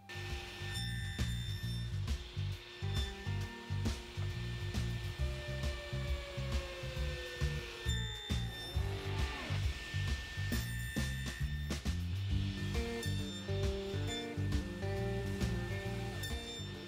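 A table saw fitted with a ripping blade cuts box joints in wood, a loud whirring drone broken by repeated short cutting bursts at a fairly regular pace, heard close.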